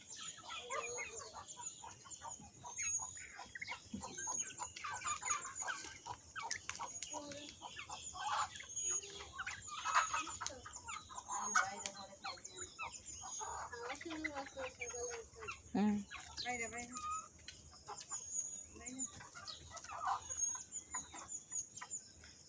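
Chickens and ducks at a village homestead cluck and chatter quietly nearby in a soft, irregular stream, with occasional chirps and people talking in the background.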